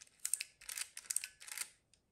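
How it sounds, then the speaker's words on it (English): A Konica IIIA rangefinder's leaf shutter fires in a few quiet, soft mechanical clicks in quick succession, close up with no talking. "And that's the sound of the shutter, extremely quiet."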